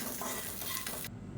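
Ingredients for high-protein idli podi, with salt added, dry roast in a pan while being stirred, giving a close, steady scraping and light sizzling hiss that cuts off near the end.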